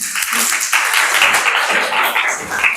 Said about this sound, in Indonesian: angkat tangan, beri aplaus